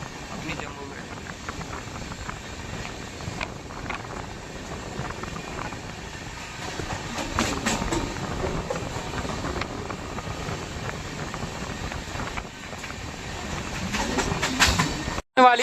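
A Jammu express train rounds a curve near Tundla Junction, a low rumble of wheels and carriages running steadily beneath a voice talking, with brief rattles and clanks through the middle and end.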